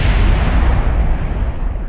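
A loud, sustained rumbling roar from an explosion in the video game Kerbal Space Program, dense and booming throughout with no voices.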